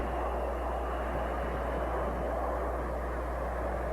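A four-engine military Hercules aircraft flies overhead with a steady, continuous broadband drone and a deep hum underneath, unbroken for the whole stretch.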